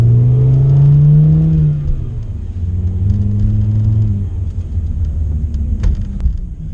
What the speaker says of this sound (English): this car for me has probably one of the most unique, best sounding like engine sounds ever